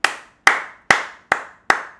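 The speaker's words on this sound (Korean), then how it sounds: "일단 박수 한번 칩시다." Five sharp hand claps from one person, evenly spaced about half a second apart, close and crisp with nothing else around them.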